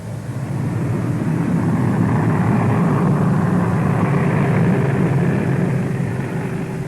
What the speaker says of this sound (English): The first plane to arrive, a P-2V, was seen briefly as it approached the strip.